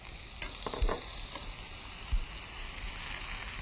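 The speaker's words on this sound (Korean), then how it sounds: "그리고 이렇게 볶으시면서" Onion, burdock and fresh ginseng stir-fried in a pan give a loud, dense hiss with a few utensil scrapes and thumps, no talking.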